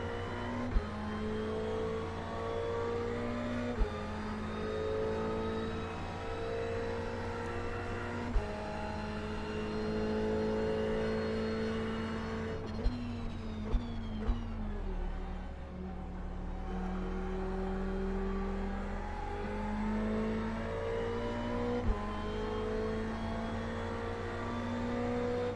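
GT race cars roar around Monza in a sim-racing game, with a loud, continuous engine drone and rising and falling revs that hold steady for the whole stretch. Faint clicks appear, and no voices are heard.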